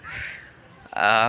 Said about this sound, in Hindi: यहाँ पे आप लोग चिड़ियों की आवाज़ को सुन सकते हैं।